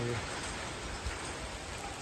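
Rain pours over farm fields during a monsoon shower, a dense, even hiss of drops filling the whole moment at close range.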